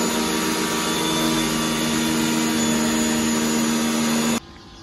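A Pioneer P1 premium pressure washer sprays a motorcycle with a loud, steady hiss and motor whine, close and constant, then cuts off abruptly near the end, leaving a quieter background.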